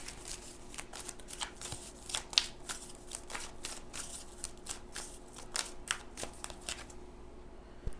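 A deck of oracle cards being shuffled by hand, a steady run of soft riffling flutters and slaps close up for about seven seconds before it stops.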